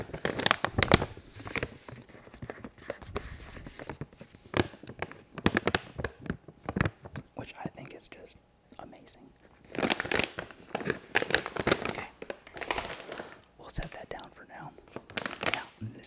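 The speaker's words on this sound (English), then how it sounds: "as you can see and hear, it's very, very crinkly" Crinkly plastic holster bag rustling and crackling in bursts, close up, with brief pauses between handling.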